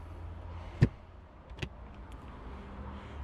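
The power tailgate of a 2023 Mazda CX-5 G25 Akera shuts at the press of a button, with a sharp latch thump, a second softer clunk and a low motor hum in a quiet setting.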